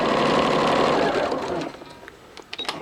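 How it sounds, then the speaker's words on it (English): A sewing machine stitching a straight line along a ring sling shoulder runs loud and fast with a steady whir, then slows to a stop and leaves a few scattered clicks. "I'm making a straight line that I'm sewing down here."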